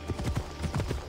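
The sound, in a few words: horse hooves in video game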